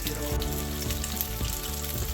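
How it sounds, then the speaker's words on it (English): Panko breadcrumbs sizzle and crackle in hot frying oil, a steady close-up fry with dense bubbling and small pops throughout. "Just take that panko and drop it in there, and you can see it like start to sizzle."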